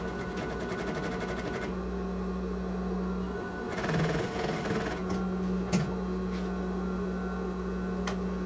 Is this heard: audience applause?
no